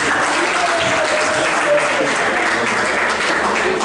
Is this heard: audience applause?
yes